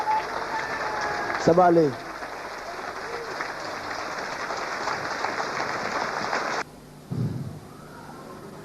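A church congregation applauds and cheers to acclaim Jesus during a French-language sermon, a broad wash of clapping under a preacher's voice that cuts off abruptly near the end before talk resumes.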